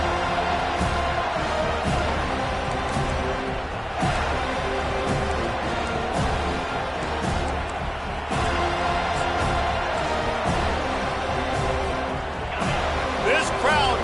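A college football stadium crowd at Clemson at Florida State roars continuously and loudly beneath steady commentary, with swells of cheering throughout.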